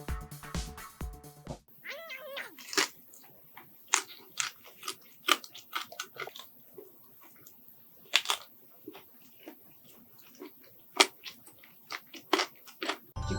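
Crispy Goobne Namhae garlic fried chicken being bitten and chewed up close, loud crunches recurring irregularly over a quiet background, after a brief burst of music at the start.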